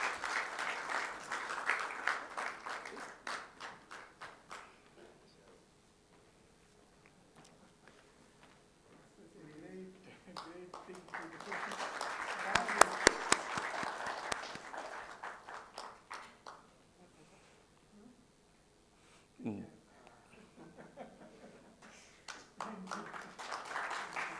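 At a World Blood Donor Day ceremony in India, an audience applauds honoured blood donors in quiet bursts of scattered clapping that swell and fade, with a speaker's voice heard between and over them.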